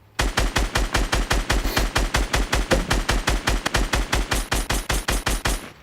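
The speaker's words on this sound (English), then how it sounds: "Go ahead and just use my LMG." A light machine gun in Fortnite fires in long, rapid bursts of evenly spaced, loud, punchy shots with brief pauses between strings.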